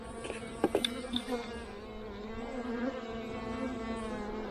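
Honeybees from a deep nuc hive ready to swarm buzz in a dense, steady drone during an inspection, with a few sharper knocks early on and no talk.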